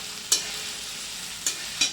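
Urad dal being stirred in a frying pan, a soft continuous sizzle broken by three quick scraping strokes of a spoon against the pan.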